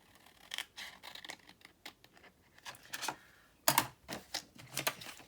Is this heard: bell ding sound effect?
no